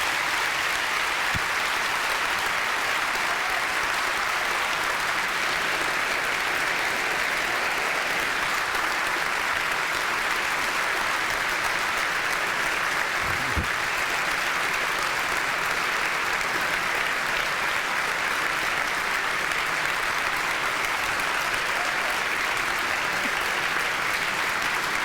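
Audience at a NASA live-streamed event on the post-ISS roadmap to Mars applauding, a dense, even round of clapping sustained without a break at close range.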